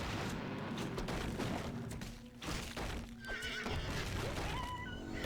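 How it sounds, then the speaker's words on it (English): A horse neighs in a Warcraft 3 custom map, whinnying over a busy, dense game soundscape with hoof clip-clop and battle noise, heard alone without talk. "Horsey."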